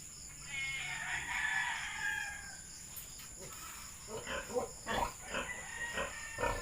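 A mother pig and her piglets make grunting and squealing bursts close by, starting about halfway through. A rooster crows in the background earlier and insects chirp throughout.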